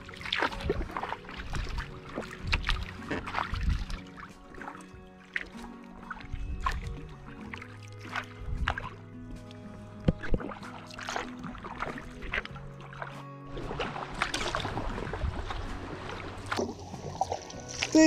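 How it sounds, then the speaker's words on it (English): Kayak paddle strokes dipping and pulling through mirror-calm sea off Cap de Corse, Corsica, soft rhythmic splashes and trickles close by, with faint background noise. "we're paddling along south from the Cap de Corse now"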